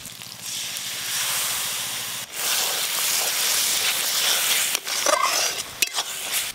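Masala is fried hard in a pan with a paste of poppy seed, melon seed and cashew for a fish kalia, giving a loud, close, continuous hissing sizzle with brief dips and a few scraping stirs, no speech.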